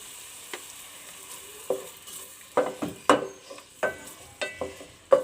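Chopped onion frying in half a cup of oil in a pan, a steady low sizzle broken by repeated scraping stir strokes at an uneven rhythm, close and moderately loud, no voices.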